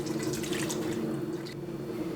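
Tap water runs steadily into a cup while 3 cups are measured out to cover pinto beans in a pressure cooker for Southern ham hock soup, a continuous close splashing stream with no talk over it.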